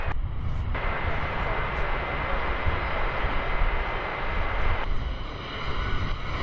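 A fixed-wing airliner takes off from runway 18 Left at DFW Airport on a gusty day, giving a steady, loud, broad jet roar that holds for several seconds and eases slightly near the end.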